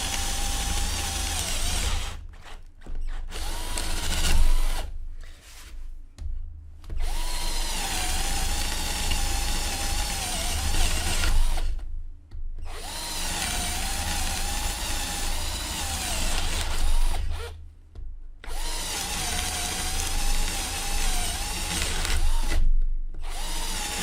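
Cheap drill whirring steadily at its lowest speed setting, a loud, close motor drone with a slight wavering pitch, broken by several brief stops and restarts.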